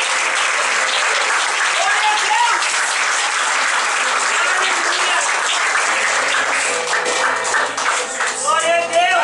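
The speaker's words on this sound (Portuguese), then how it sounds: "Aplauda o Senhor bem forte" A church congregation applauds loudly and steadily, a dense wash of many hands clapping throughout, with voices and shouts rising over it toward the end.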